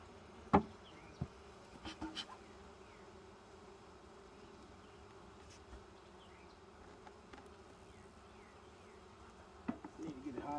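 Honeybees buzz softly and steadily around an opened hive during an inspection after smoking, a faint continuous drone with a few sharp knocks and clicks from handling the boxes and frames.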